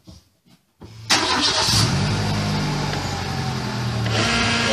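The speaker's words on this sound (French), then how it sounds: "Il faut redémarrer le véhicule." A 2004 Renault Scénic 2 engine cranks and catches near the mic after a few quiet knocks, then settles into a steady, loud idle that runs on to the end.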